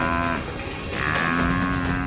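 Wild buffalo lowing, two deep drawn-out moos with a short pause between them, fairly close over faint outdoor background.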